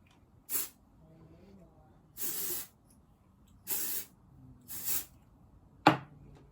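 Five short hissing bursts of an aerosol hairspray sprayed from underneath onto curled hair, evenly spaced, fairly close, with quiet rustling between sprays.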